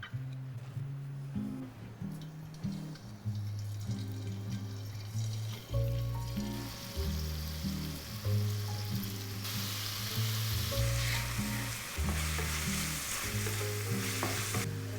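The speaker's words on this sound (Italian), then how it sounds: "la sbriciolo e la metto a rosolare subito in padella" Steady sizzling and crackling of crumbled sausage browning in oil in a frying pan, close by, with occasional stirring and clattering and a background musical hum throughout.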